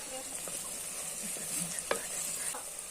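Salted onions sauté in a pan, a steady close sizzle with soft scraping stirs and a sharp clink of a utensil against the metal, no voices.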